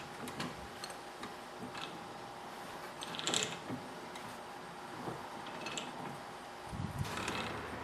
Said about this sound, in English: Now I'm going to flip the switch back so that I'm tightening again to cut more threads.